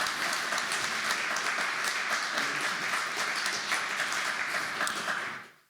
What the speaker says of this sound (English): let's have a big hand of applaud for the 43rd Army Band